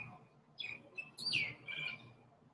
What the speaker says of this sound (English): don't know if you guys can hear the birds